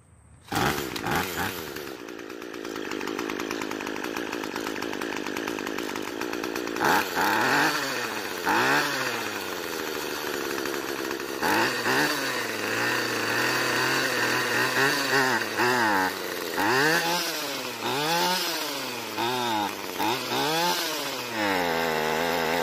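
A cheap gas string trimmer with a fault starts up and runs loud and close, its small two-stroke engine buzzing steadily and then surging and dipping in repeated uneven revving swells.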